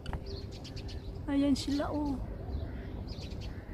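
Birds chirp and call briefly in the middle on Al Noor Island in Sharjah, a few bright tweets over outdoor background noise, while a person talks nearby.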